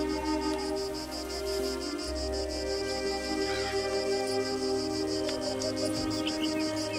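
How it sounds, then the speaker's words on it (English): Crickets in the video game Moonlight Peaks chirp in a fast, regular pulsing trill that runs steadily throughout at a moderate level, over a soft background ambience with no talking. "Those crickets are loud."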